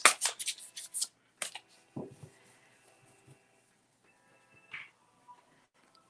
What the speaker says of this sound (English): So shuffling, really good to put that energy in there.